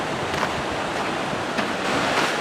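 Ocean waves surge and break against rocks along the 17 Mile Drive at Pebble Beach, California, a loud continuous wash of surf with windy hiss and a few swelling crests.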